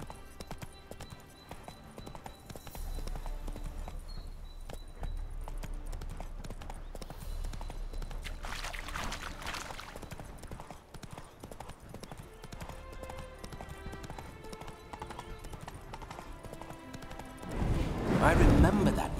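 Rhythmic clip-clop of horse hooves at a steady pace in The Witcher 3: Hearts of Stone, under music and ambient sound, with a louder burst near the end.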